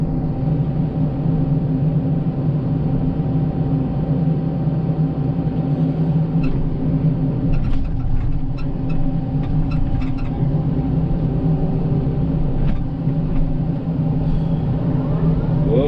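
A Komatsu PC88 MR-8 excavator with a tilt bucket digging gravel runs as a steady diesel engine drone, with scraping and clunks of the bucket breaking through between about 7 and 11 seconds.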